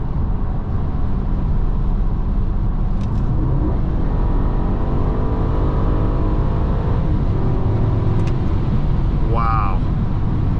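Steady low engine drone from a 2005 BMW 645Ci 6 Series held near 3,500 RPM while cruising, a continuous loud in-cabin rumble with road noise throughout and a brief higher whine near the end.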